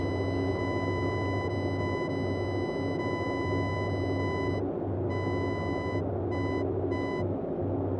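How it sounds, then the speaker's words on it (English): A Morse code beacon identifier plays in the cockpit of a Boeing 247D in Flight Simulator 2020: a steady high tone that breaks into short and long keyed beeps, over a constant low engine drone. "And listen to the Morse code, it will continuously change."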